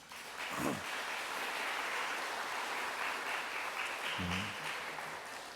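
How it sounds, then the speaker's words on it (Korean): Congregation applauding to welcome visiting parents during a Korean church worship service, a faint, even patter of many hands clapping throughout, with brief low voices rising near the start and again later. "저희가 박수로 환영하고 축하하도록 하겠습니다"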